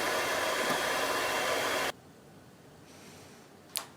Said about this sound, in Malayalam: ആദ്യം നമുക്ക് 3 മുട്ടയെ ബീറ്റ് ചെയ്തെടുക്കണം.